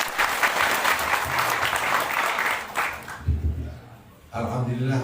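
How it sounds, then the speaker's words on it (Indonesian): An audience at an Indonesian mental and spiritual education event bursts into a few seconds of lively clapping, which then drops away as a voice begins speaking over a public address system. "Tepuk tangan untuk."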